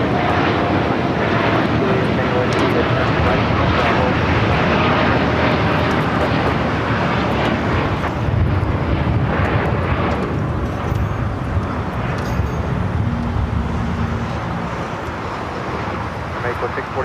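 An airliner rumbles at LAX airport, a broad, loud, continuous roar of jet engines and wash that holds steady for the whole stretch, with radio chatter and a commentator's voice heard over it.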